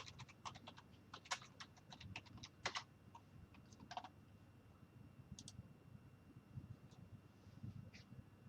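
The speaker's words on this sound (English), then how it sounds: "I'm typing you the web link of this blog" Keys clack on a computer keyboard in quick, irregular bursts of sharp clicks with short pauses between them, fairly close and quiet, with no voices over the typing.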